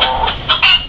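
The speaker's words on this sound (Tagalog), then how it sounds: "Yung mga manok natin nandito." Chickens cluck in short bursts at close range, sheltering in a yard damaged by Typhoon Uwan, with a steady background hum beneath the calls.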